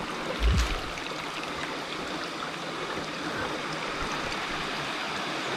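Rushing water from Kinabuan Falls, a steady, broad roar of falling and flowing water heard from nearby, continuous and even throughout, with a brief low thump near the start.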